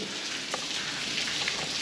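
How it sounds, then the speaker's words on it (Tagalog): Steady rain falls outdoors at a home in the Philippines, a continuous broadband patter at even loudness with a few brief louder drips standing out, and no voices. "At least kahit pa paano inulan nga kami."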